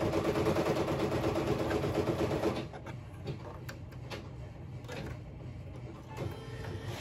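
An embroidery machine stitches out snap tabs for in-the-hoop buttons: loud, steady rapid mechanical whirring for the first few seconds, then it stops, leaving a quieter room with a few faint knocks and clicks.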